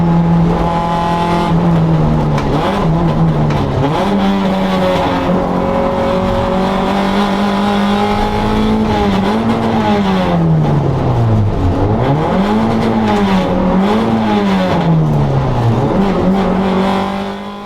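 A race car on track during an out lap, its engine loud and close throughout, pitch sweeping up and down through the gears with brief tire squeal, no talk.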